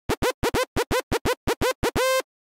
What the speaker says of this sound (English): a short decay time like this is good for creating very short stabbed sounds